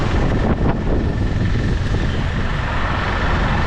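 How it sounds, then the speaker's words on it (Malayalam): Strong headwind buffeting a microphone on a bicycle, a loud continuous rumbling roar that dominates throughout with no voices. "ഭയങ്കര കാറ്റ്, നല്ല ഹെഡ്വിൻഡ്, ചവിട്ടിയിട്ട് നീങ്ങണില്ല"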